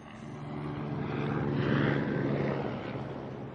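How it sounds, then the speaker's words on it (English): A distant aircraft drones steadily overhead, swelling louder in the middle and then fading, with a low rotor-like hum and no voices. "Helicopter."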